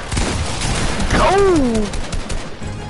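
Rapid bursts of gunfire from a shooting video game fill the short stretch, close and loud, with a voice speaking over the shots.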